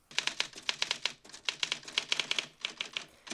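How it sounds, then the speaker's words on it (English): A typewriter from the film Misery clatters in quick bursts of sharp key strikes with brief pauses, loud and close, with no voices. "There's something so satisfying about typewriters to me."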